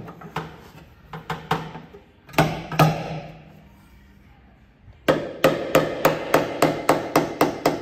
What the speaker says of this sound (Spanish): Este martillito, que es de plástico.